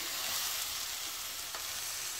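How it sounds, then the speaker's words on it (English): Rice and chicken frying in ghee in a pot, a steady, close, broadband sizzle that holds evenly throughout with no talk over it. "we just want to fry it a little bit. Sit around the ghee. and let that fry for about 5 minutes."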